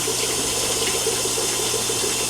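Water pours steadily into a container being set up to culture first foods for baby discus fish, a continuous close splashing trickle with no speech.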